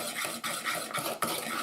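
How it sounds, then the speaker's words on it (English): Utensil stirring ingredients for a creamy cheesy fish bake, a soft, steady scraping and swishing with rhythmic strokes about every few tenths of a second, close and fairly quiet. "Mix those together."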